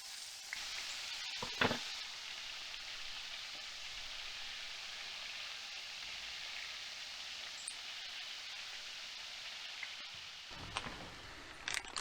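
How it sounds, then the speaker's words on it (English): Chicken livers deep frying in hot oil, a steady close sizzle that runs throughout, with a few brief clinks and rustles near the start and end. "Deep frying these here livers till they're golden brown"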